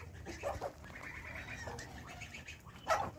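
A turkey on a farm making short throaty gobbling calls, with a burst near the start and a louder one at the end over faint farmyard background.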